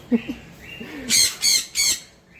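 Green-cheeked conure chicks chirping in three loud, harsh bursts close by, with softer calls in between.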